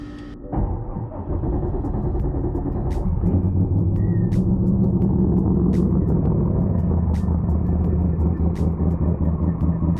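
Twin-turbo small block Ford Foxbody Mustang on Holley EFI firing up from a dead cold start, the starter giving way to a loud, steady low idle with a regular lopey pulse and sharp periodic ticks.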